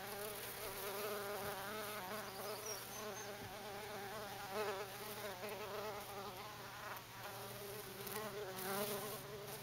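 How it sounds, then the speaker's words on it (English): Steady, close buzzing of many honeybees swarming out of building insulation on Salt Spring Island, a continuous droning hum with slight rises and falls, no voices. "These are actually honeybees."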